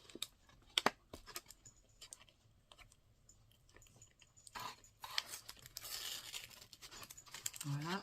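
Kraft paper packaging being unwrapped and torn open, a loud rustling, crinkling burst in the second half after quieter handling taps and scattered clicks near the microphone.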